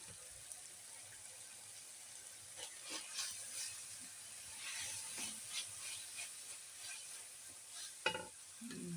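Diced onions and garlic sizzling in a pan, quiet and steady, with scattered scraping clicks from a utensil stirring them around and one sharper knock near the end; no voices.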